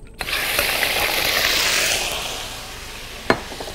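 Shrimp drop into hot oil in a wok and sizzle loudly. The hiss fades gradually, and a clear clank of a utensil comes near the end.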